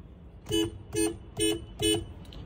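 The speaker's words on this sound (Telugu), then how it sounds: "హారన్ చిన్నగా వస్తుంది షోరూమ్దే" Four short toots of a car's soft, original factory horn sound in an even rhythm, close and clear, with a quiet hum underneath.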